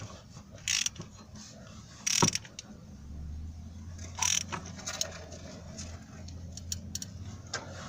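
A ratchet tightens bolts on a Lexus LS400 water pump during a timing job: a few short, sharp clicking bursts spaced apart over a low steady hum in a quiet workspace.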